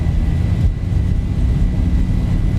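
Simulated Boeing 737-800 jet engines at takeoff thrust in X-Plane 11, a steady loud low roar with broadband rush and a faint whine, holding constant throughout with no talking.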